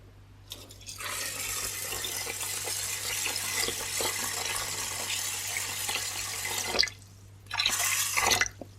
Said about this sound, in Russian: И промытый рис сейчас зальем водой.